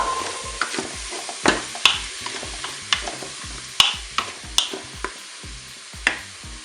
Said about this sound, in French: Vous voyez, l'huile est assez chaude. Je vais maintenant rajouter les oignons.